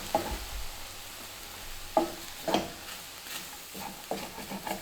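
Spoon stirring taco seasoning and soy milk into food in a pan, a few scraping strokes over a soft sizzle, moderately close with no talking.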